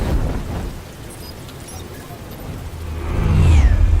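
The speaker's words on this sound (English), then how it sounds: "Amazing how we get a full moon and lightning." Thunderstorm in Batman: The Telltale Series game audio: steady rain hiss with a low rolling thunder rumble that swells louder near the end, alone with no talk.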